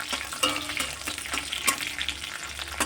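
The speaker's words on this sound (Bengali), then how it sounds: "দিয়ে এগুলো ভালো করে ভেজে নিতে হবে" Black cumin, dried chillies, whole garlic and green chillies fry in hot oil in a wok, giving a dense, continuous sizzle broken by occasional spoon clinks and stirring scrapes, with no talking.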